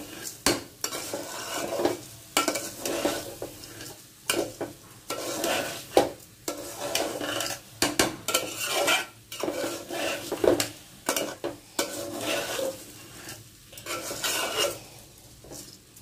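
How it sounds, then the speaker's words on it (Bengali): A spoon scrapes and clatters steadily against a pot while khichuri cooks with a soft sizzle underneath, in a rapid, continuous rhythm of stirring with metal knocks throughout. "আজকে খিচুড়ি রান্না করছি"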